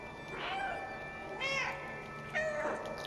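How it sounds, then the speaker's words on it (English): Three short cat mews from the video game Stray, evenly spaced about a second apart, clear and close with no talk over them. "the cat will mew"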